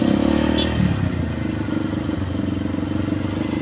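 A motorcycle rides along a road past logging trucks parked on the shoulder, its engine droning steadily up close with a rough, throbbing mid-range rumble and light clatter, with no voices.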